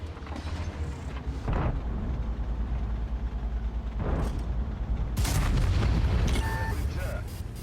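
Heavy tank cannon shots in a video game boom out at about 1.5, 4 and 5.2 seconds over a constant engine rumble, each a loud broadband blast.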